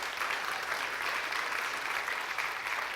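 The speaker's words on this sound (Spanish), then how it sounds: "Dale un aplauso con todo su corazón al Señor." Dense, steady applause from a church congregation during a Sunday sermon, many hands clapping together at an even level for the whole stretch with no speech over it.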